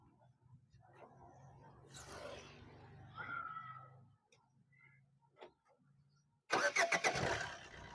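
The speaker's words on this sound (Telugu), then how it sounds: "एक बार गाड़ी स्टार्ट करो." Diesel engine of a 2017 Fiat Linea being started: a faint idle hum and soft clicks, then the starter cranks and the engine catches with a loud burst near the end, with low voices in between.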